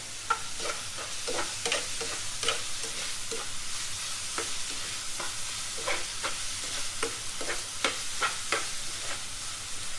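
Green beans and squash cooking in coconut milk, stirred in a pan: a continuous soft sizzle with repeated scraping and clinking strokes of a utensil every half second or so, close and steady, no talk.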